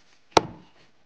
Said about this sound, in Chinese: 先把鸡剁开